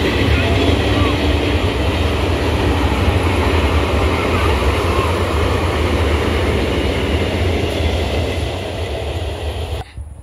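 A train passes close by on an afternoon outing, a loud continuous rumble and rattle of wagons that stays strong for most of the stretch before easing near the end.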